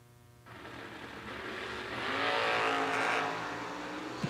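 Drag race launch of a Rambler wagon against a roadster, engines roaring loudly and building to a sustained high-revving howl as the cars pull away down the strip, with no talking.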